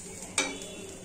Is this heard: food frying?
yes